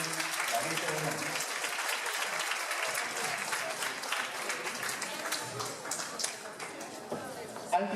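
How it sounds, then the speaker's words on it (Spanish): An audience at a university lecture ceremony applauds the officials presiding at the head table, with sustained, dense clapping at fairly even loudness and a murmur of voices mixed in. "Un fuerte voto de aplauso a nuestras autoridades que hoy presiden la mesa de honor"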